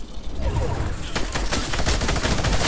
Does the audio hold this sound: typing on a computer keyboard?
no